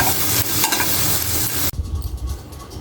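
Okra frying in a pan makes a bright, steady sizzle that drops abruptly to a duller, quieter frying sound partway through, close and without voices.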